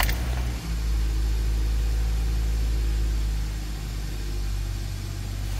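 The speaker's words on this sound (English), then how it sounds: "I wonder if I turn the engine on," A car engine idles with a steady low rumble throughout, a continuous near drone holding even level with a brief dip near the start.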